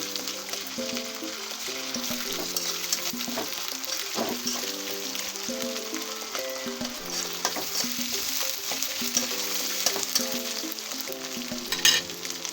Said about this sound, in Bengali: রসুনটা একটু ভালো করে ভেজে নেই